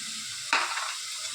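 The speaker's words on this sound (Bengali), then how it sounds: "সবজিগুলো দিয়ে চিকেনটাও দিয়ে দেবো একই সাথে" Vegetables and chicken hit hot oil in a pan with a sudden loud burst of sizzling halfway through, settling into a steady frying hiss.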